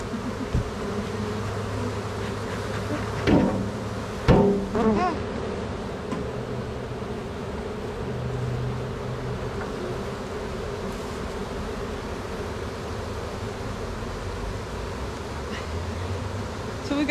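A dense swarm of honey bees droning around open hives, a loud continuous buzz that holds steady for the whole stretch, with a couple of brief knocks and rustles.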